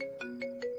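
A phone ringtone repeats an electronic melodic phrase in three short pulses, close and clear, ringing on with nobody answering the call.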